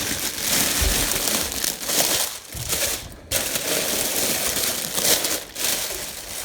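A plastic grocery bag is handled and rummaged through indoors, producing continuous close crinkling and rustling with a few brief pauses, with no talk.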